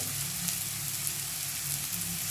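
Mango ginger pieces dropped into hot oil for pickle-making, giving a soft, steady sizzle and crackle that runs evenly throughout, fairly faint and alone.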